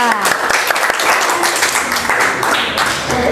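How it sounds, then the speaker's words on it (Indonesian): A classroom of students claps for group 2, a short round of steady applause close by, with someone speaking over the clapping partway through. "Oke, tepuk tangan dulu untuk kelompok 2."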